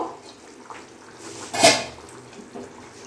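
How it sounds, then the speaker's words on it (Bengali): A lid lifted off a pot of simmering rohu fish curry with potatoes, a single sharp metallic clank at the moment of lifting, set against faint bubbling and quiet kitchen background. "এবার আমি ঢাকাটা খুলে দেখবো।"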